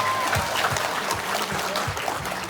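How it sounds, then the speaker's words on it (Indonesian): Audience applause at an Islamic haul gathering in Indonesia, a short burst of clapping from a crowd, steady and fairly loud throughout with some low thumps underneath. "Tepuk tangan dulu buat Tatia."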